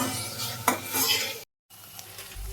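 Korean ramen ingredients with crushed ginger and garlic are stirred in a pan, producing close scraping and light sizzling with a sharp clink, then a brief silence before softer stirring resumes.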